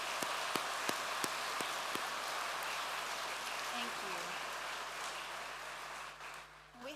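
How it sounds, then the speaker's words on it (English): Audience applause at a University of Limerick autumn conferring ceremony, a dense, even wash of clapping from a large hall heard at a distance and fairly faint, fading out toward the end as a voice begins. "let's give the ceremony staff and our volunteers a round of applause for their hard work"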